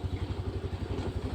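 A motorcycle idling near a forest orchard where fruit is being picked, its engine a steady low throbbing pulse, close and fairly loud, with no talk over it.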